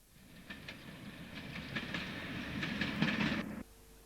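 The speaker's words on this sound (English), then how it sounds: "The Class 37 locomotive hurries back to Immingham Depot after dropping off its tanks at Associated Chemicals" A Class 37 diesel locomotive runs light along a branch line, its rumble swelling as wheels click over rail joints in a quick rhythm, then cutting off sharply as it passes.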